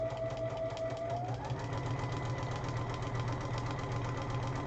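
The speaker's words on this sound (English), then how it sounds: "So with triangulations, I am just sewing, reducing my length," A sewing machine stitches along marked lines on a quilt, a steady close mechanical hum with a fast rhythmic chatter of the needle running throughout.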